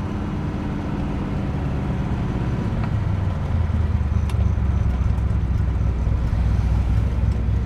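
A 1969 Chevrolet Camaro SS, Baldwin Motion style, its big block 427 V8 droning loudly and continuously from inside while driving, the low rumble deepening and swelling partway through, with no talking.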